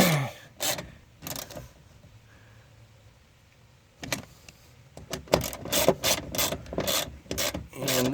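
Window regulator bolts inside a 2008 Mazda Tribute door are tightened with a hand ratchet: a close, rapid clicking in short bursts with pauses, then longer runs of ratcheting toward the end.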